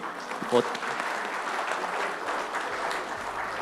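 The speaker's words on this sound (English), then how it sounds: "Hope you guys can give a round of applause to all the panelists here today." An audience applauds panelists at the close of a blockchain-for-enterprise panel session, a short even wash of clapping in a hall, moderately loud with some voices under it.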